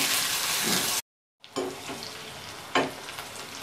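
Thin, long-sliced onions frying in a pan toward golden brown, a steady bright sizzle broken by a brief silent gap, then resuming with stirring clatter and a sharper hiss burst.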